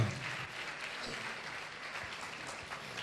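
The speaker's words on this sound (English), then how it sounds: "Can we just clap to the Lord?" A church congregation claps together during a Good Friday service, a steady, dense wash of applause held at an even level with no voices rising above it.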